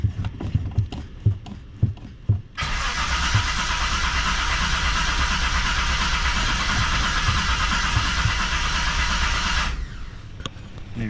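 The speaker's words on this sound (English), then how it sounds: "I probably flooded the engine now from cranking it" The engine of a 1978 Reliant Scimitar cranks in a long, steady whirring burst of about seven seconds after a few clicks and knocks, loud and close, then stops without catching.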